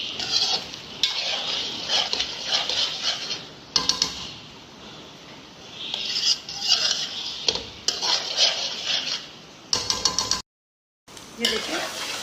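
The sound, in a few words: stirring masala fried egg mixture in a pan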